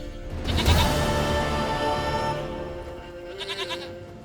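A goat bleats in The Witcher 3, a loud wavering call rising early and holding, then a couple of shorter bleats near the end over steady game ambience.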